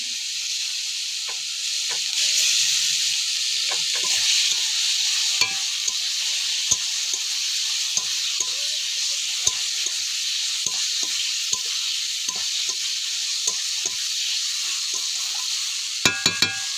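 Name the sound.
egg curry masala frying with cumin, ginger and coriander paste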